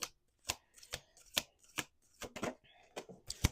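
Playing cards shuffled in a series of crisp riffling bursts, about a dozen short sharp flutters spaced irregularly, close and fairly quiet with silence between them.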